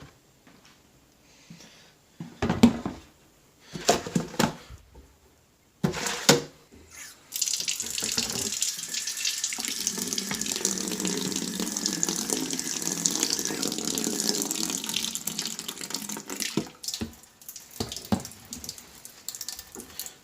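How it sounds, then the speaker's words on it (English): A small amount of water runs from a tap into a cleaning solution for a Ramair cone air filter, a steady close pour of about ten seconds after a few clinks and knocks. "And then you just add a tiny bit of water into it,"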